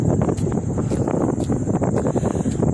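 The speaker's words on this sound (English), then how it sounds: "Yes, I know it's windy." Heavy wind buffets a microphone outdoors as someone walks into a strong headwind, a loud continuous rumbling roar with gusty fluctuations throughout and no speech.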